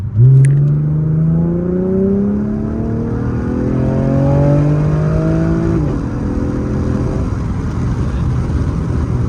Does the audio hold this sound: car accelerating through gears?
yes